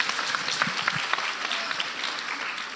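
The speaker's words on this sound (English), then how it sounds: "Let's give her a better clap again." Steady crowd applause for a presenter at a church school event, a dense continuous patter of many hands clapping at moderate distance, holding evenly throughout with a slight fade at the end.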